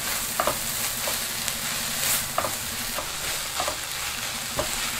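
Herbs fry in a hot pan on a home stove while being stirred, a constant soft sizzle broken by scraping strokes of the utensil at regular intervals, close and without talk.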